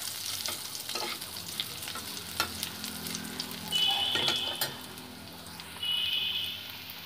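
Ginger paste with turmeric powder fries in a pan for a vegetarian broccoli potato curry, a low steady sizzle with occasional stirring scrapes, quiet and without voices.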